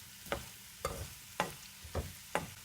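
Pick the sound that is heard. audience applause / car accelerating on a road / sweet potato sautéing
sweet potato sautéing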